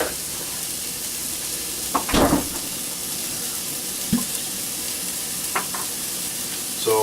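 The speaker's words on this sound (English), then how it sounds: "As the pan's sizzling, so it tells me it's hot." Red wine poured into a hot frying pan hisses and sizzles steadily. A burst of louder bubbling and crackling comes early, then a few shorter spits follow, close and loud, with no talking.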